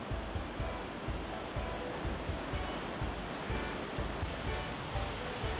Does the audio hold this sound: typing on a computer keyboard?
no